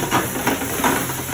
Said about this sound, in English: We're going to flame it with a little bit of brandy